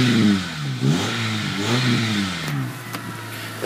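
A 2002 Honda Civic Si engine revs repeatedly, the pitch climbing and falling in quick blips before settling, loud and close with no talking.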